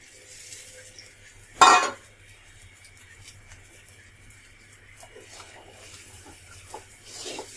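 A spoon stirs fried shrimp, potato and carrot into khichuri in a pot, with one sharp metallic clank early on followed by soft, faint scraping and shuffling.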